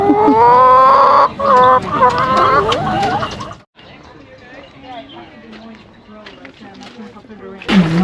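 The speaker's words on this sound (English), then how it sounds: "Look at these chickens." Chickens on a farm in Chiang Mai cluck and squawk loudly up close, with a burst of agitated calls, then softer scattered clucking, and voices talking over them.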